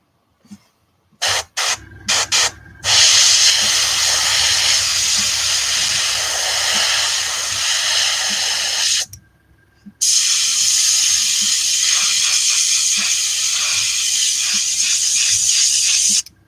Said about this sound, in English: using an airbrush sort of it keeps it soft anyway